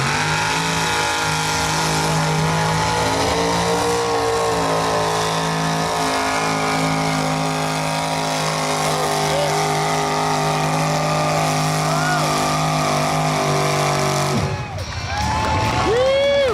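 The tractor pull machine Insane Addiction roars at full throttle at the 2024 Sublimity Harvest Festival, a loud, sustained engine howl that holds steady before the throttle is chopped and the sound drops away.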